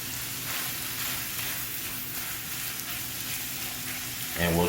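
Chicken and broccoli sizzling in a pan for a low-carb keto cheese soup, a steady close crackle of frying with a low hum beneath and a brief clatter at the end.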